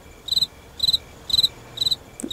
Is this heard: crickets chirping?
yes